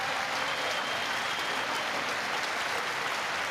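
Steady applause fills the chamber during a State of the Union address, a dense, even wash of many hands clapping at moderate distance that holds level throughout.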